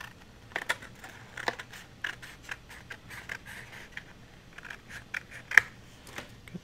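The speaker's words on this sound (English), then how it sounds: "So I think I'll cut the barcode off, and I'm using my little scissors." Small scissors snip through paper to cut off a barcode, making a series of quick, crisp, close cuts at an irregular pace with no voices.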